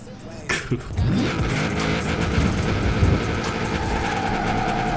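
A Honda in Forza Horizon 4 revs hard and keeps a loud, sustained engine drone for several seconds after a brief opening burst. Someone talks over it.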